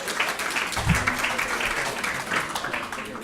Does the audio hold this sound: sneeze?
no